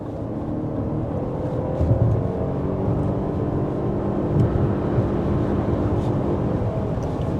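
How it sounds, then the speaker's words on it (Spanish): A 2024 Lexus TX 550h+ plug-in hybrid SUV with a 3.5-litre V6 drives along, giving a steady low engine hum and road drone heard from the cabin, even and moderate with no talk. "Otra cosa que llama mi atención en este carro es el sonido del motor."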